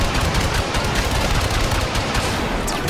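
Dense, rapid blaster fire in the Star Wars Battlefront 2 campaign: a loud, continuous rattle of overlapping shots with no pause, and no talk over it.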